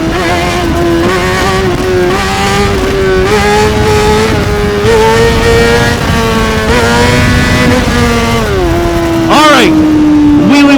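Honda CBR600RR sport bike accelerating hard in wheelie mode, a loud, close, high-pitched engine wail climbing through the gears with brief dips at shifts, nearly continuous over wind noise.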